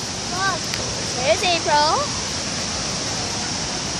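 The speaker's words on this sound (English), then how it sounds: "I don't think he can even hear me because of this waterfall so loud" A loud waterfall roars in a steady, broad wash of rushing water close by. People talk over the noise in short bursts.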